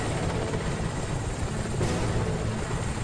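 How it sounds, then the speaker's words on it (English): Helicopters flying in the 007 Legends video game, a dense, continuous rotor and engine roar that stays loud and steady throughout with no voices. "All three helicopters are in position."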